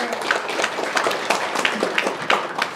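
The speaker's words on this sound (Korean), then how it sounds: "뜨거운 박수로 환영의 박수 보내주시기 바랍니다." Audience at a city council inauguration ceremony applauding to welcome a guest, a close, lively patter of clapping with uneven individual claps standing out.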